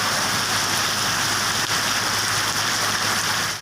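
Heavy rain pouring down at night in a Punjab city, a steady dense hiss of water striking surfaces, loud and unbroken from start to finish.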